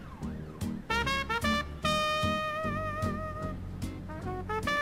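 A video game ambulance siren alternates between steady electronic tones and quick bursts, fairly close and clean, with a synthetic game-like quality.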